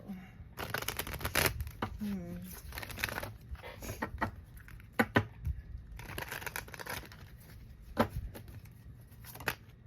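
Tarot cards are shuffled in rapid, crisp riffles and flutters close by, with scattered single card slaps and sharp taps. A voice speaks intermittently in between.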